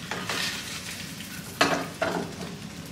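Food sizzles in a pan over a high flame while a new spatula turns it, a soft continuous hiss broken by two sharper scraping clacks near the end.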